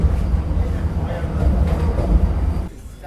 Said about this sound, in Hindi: क्या एक्सेलरेशन है भाई वंदे भारत का, गजब।